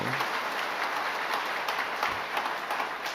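A church congregation applauds steadily in a large hall, a dense, even wash of clapping that holds at the same moderate level throughout with no speech over it.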